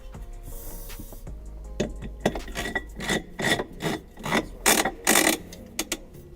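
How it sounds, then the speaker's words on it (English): An RV table slides out and fits into its leg, giving a series of close rubbing, scraping and clicking knocks that grow louder toward the end. "this table will pull out and you can insert this into the table leg in the front or in the rear of the vehicle"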